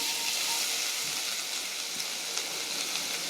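Garlic frying in a pan for cauliflower curry, a continuous close hissing sizzle with light crackles and a few soft spatters, steady throughout without talk.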